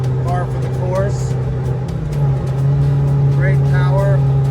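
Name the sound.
1981 Ferrari 308 GT4 Dino engine with sport exhaust driving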